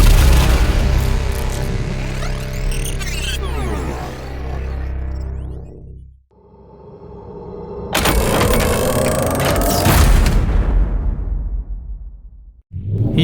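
Cinematic transition effects for video editing play in sequence: a deep rumbling whoosh that sweeps down and fades, a sudden loud crashing burst, then another swelling sweep that drops to silence, all without talk.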